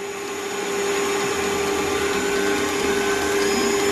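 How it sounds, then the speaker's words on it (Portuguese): An electric mixer beats two-milk cake batter in a bowl, a loud steady whirring drone with a constant pitch that holds without a break from start to finish, close up and alone. "Aí aqui eu vou bater 2, 3 minutinhos só pra homogeneizar bem a massa."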